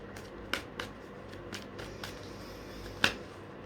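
Tarot cards being shuffled give a series of sharp, close riffling snaps at irregular intervals, fairly quiet between bursts, with one louder flick near the end and no talking.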